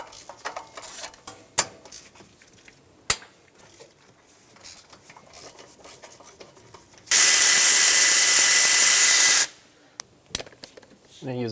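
A power tool loosens bolts and nuts on a 2000-2006 Toyota Tundra engine during knock sensor replacement, giving one loud, steady whirring burst of a couple of seconds between scattered sharp clicks and quieter handling sounds.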